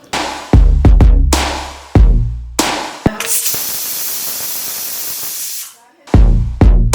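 A pressure cooker on the stove with urad dal rice, garlic, fenugreek and cumin lets out a loud, steady hiss of steam for a few seconds, framed by sharp clanking knocks before and after.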